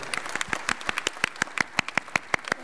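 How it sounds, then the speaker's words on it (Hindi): Applause congratulating Manoj Tiwari at a public gathering with Swami Ramdev, steady rhythmic clapping from a crowd, fairly loud and continuous with sharp regular beats throughout. "सबकी ओर से हमारे भाई मनोज तिवारी जी को बहुत बहुत बधाई जरा जोरदार तालियों के द्वारा"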